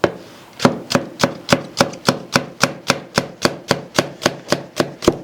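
Onions being chopped on a cutting board for a stuffed mullet recipe, a regular series of about eighteen crisp knife strikes in a steady rhythm, close and loud, with no talk.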